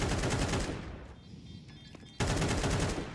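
A Counter-Strike 2 match gives dense, loud bursts of gunfire. They drop to a quiet lull for about a second, then a sharp shot and another heavy burst follow.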